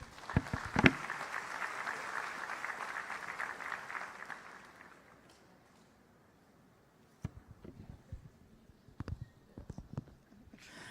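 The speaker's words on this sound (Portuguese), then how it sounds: "Vamos recebê-lo aqui com aplauso" Applause from a church congregation welcoming a pastor, steady for about four seconds, then fading out. Scattered clicks and knocks follow after a quiet pause.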